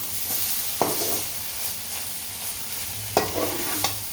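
Homemade kothu parotta being stirred in a frying pan, a continuous sizzle broken by two sharp spatula scrapes and knocks, close and without talk.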